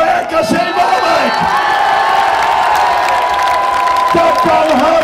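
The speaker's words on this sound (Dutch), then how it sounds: "Mag ik een geweldig applaus voor RKC Waalwijk?" A large crowd of football supporters cheers and applauds for RKC Waalwijk at a promotion celebration. The roar is loud and sustained, with whoops and shouts rising throughout the scene.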